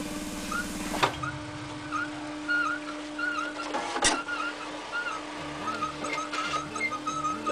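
A dot-matrix printer on a BBC Master computer setup prints in draft mode, starting with a loud rhythmic burst of head chatter, then a sharp thump and a continuous buzzy mechanical drone with repeating stepped patterns as the print head sweeps back and forth, fairly close.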